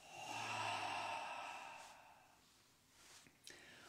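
A long, audible exhale through the mouth during guided breathwork, a breathy whoosh that starts strong and fades over about two seconds, followed by quiet and a faint soft breath sound near the end.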